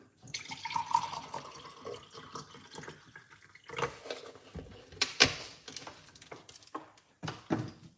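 Water poured into a drink of apple cider vinegar, with soft splashing and trickling that come and go over several seconds at close range, broken by a few clinks and handling knocks.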